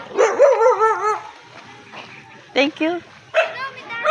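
A fierce dog barks in sharp, close bursts with yelping, whining tones, and a person talks briefly in between.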